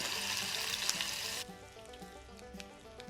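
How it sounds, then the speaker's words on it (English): Steady, close sizzling of a steak's fat cap searing in a hot pan, loud and crackling at first, then settling to a quieter sizzle with light pops. "You want to hear that sizzle on that."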